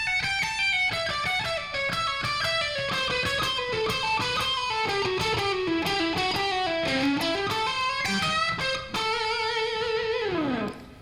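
Electric guitar runs through a quick, self-made scale pattern, rapid picked notes climbing and descending in steady streams, loud and alone, ending with a brief sliding phrase.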